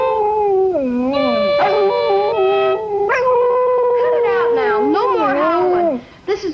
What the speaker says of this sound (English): Cut it out now. No more howling.